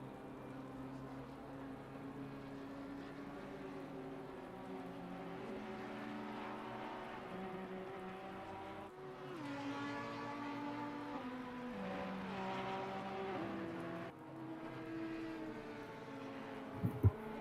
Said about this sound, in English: You guys must be enjoying the sounds of the engines there.